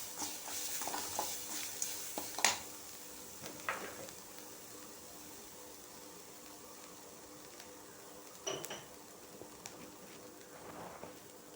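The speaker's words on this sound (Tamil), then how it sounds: "கொஞ்சோண்டு தேங்காய் துருவல் அதையும் லேசாக வதக்கிட்டு" Grated coconut being sautéed in a pan for ridge gourd peel chutney, with a faint steady sizzle under scattered spatula scrapes and stirring taps, close and moderately quiet.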